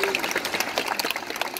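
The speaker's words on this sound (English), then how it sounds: "Everyone give Isabel a round of applause." Audience members at a seal show in Sydney clap for a volunteer, producing a dense, even burst of applause that holds steady and fairly close.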